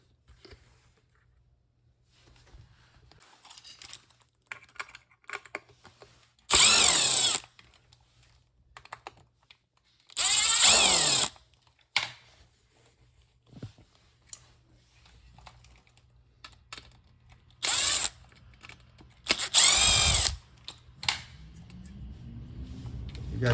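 A power drill whirs in several short bursts, backing Phillips screws out of the drain pump on an LG front-load washer, with quiet handling clicks between runs.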